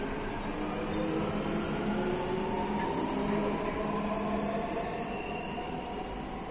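Dubai Metro train at a station platform, heard as a steady, loud rumble and hum of a train arriving and running, with no clear talk over it.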